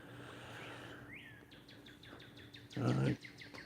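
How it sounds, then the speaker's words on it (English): A cardinal chirps in a backyard on a morning, a series of short, sharp high notes repeating at a steady pace, fairly faint against a quiet outdoor background, followed by a brief louder burst of other noise near the end. "Mr. Cardinal over there chirping."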